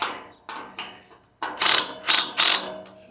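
A ratchet wrench backs out bolts while a Yaheetech fire pit table is assembled, heard as a run of close, sharp clicking bursts with brief pauses between them.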